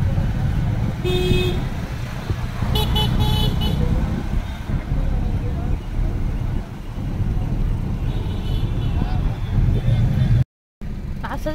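Busy road traffic crowded with a bus and a tempo, with engines rumbling and a couple of short car horn toots over it while a person talks throughout.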